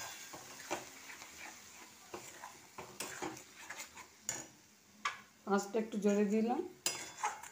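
A utensil scrapes and clinks against a cooking pan while a spice paste of cashews, raisins, tomato and coriander is stirred, giving irregular close taps, with a voice speaking briefly near the end.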